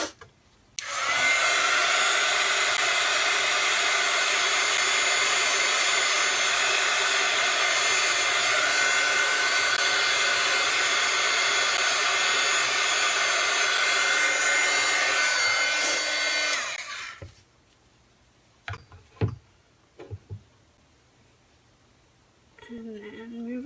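Hair dryer blowing steadily at close range to dry a craft transfer on a board, a loud continuous whirring roar lasting about sixteen seconds before cutting off, followed by a few soft handling taps.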